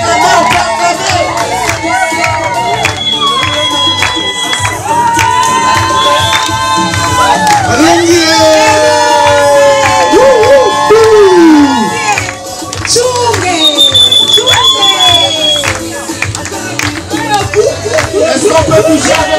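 Guests at a Congolese religious wedding celebration in Dijon cheer and shout loudly as a crowd, continuous and energetic throughout, with high whoops and calls over music-like tones and voices.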